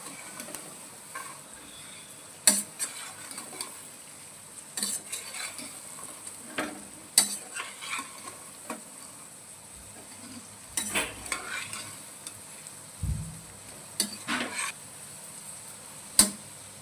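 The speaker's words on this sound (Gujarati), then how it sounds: "હળવા હાથે આપણે હલાવશું કે મસાલો બહુ બહાર નીકળી જાય નહીં" Stuffed bitter gourds being stirred gently in a frying pan with onion masala, a soft steady sizzle broken by intermittent scraping clinks of a spoon against the pan, close and alone.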